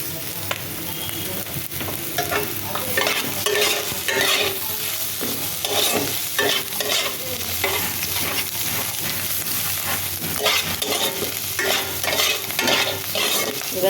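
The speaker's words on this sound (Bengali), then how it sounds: "পেঁয়াজ কুচিটা দিয়ে নাড়াচাড়া করি" Chopped onion and potato frying in a pan while being stirred, a continuous close sizzle broken by regular scraping and clatter of the spatula, no talking.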